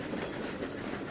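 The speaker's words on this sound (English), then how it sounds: "he's got a real short train" A train runs in Trainz 2022 railway simulation, a dense continuous rumble of rolling wheels and cars with faint clickety-clack, steady and fairly loud throughout.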